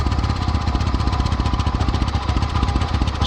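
A four-wheeler ATV engine fitted with a Cherry Bomb muffler runs steadily up close, a loud, even, rapid pulsing exhaust note that holds constant throughout.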